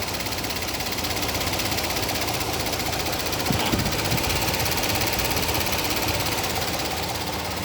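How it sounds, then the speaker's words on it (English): A car engine idles with a steady hum and the AC compressor's continuous mechanical whir and rattle, broadband and close, with a brief clunk near the middle as the compressor engages. "you will hear when the compressor starts working right away"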